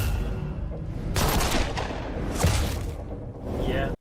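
Bursts of gunfire from a Chinese TV drama, with two loud clusters of shots standing out over a dense, busy soundtrack, while voices talk over them.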